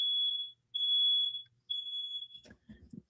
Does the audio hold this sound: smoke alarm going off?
yes